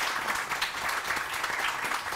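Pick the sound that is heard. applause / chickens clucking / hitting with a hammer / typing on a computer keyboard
applause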